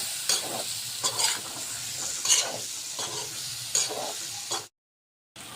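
Vegetable tossed with garlic and gram flour in a pan, giving a steady sizzle with repeated scraping stir strokes about once a second, close and moderately loud, ending in a sudden cut to silence.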